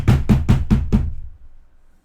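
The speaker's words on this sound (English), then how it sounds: "There's a big bang on the door." Five loud, heavy knocks bang on a front door in quick, even succession during a Vampire: The Masquerade tabletop session, then the sound stops and a quiet tail follows.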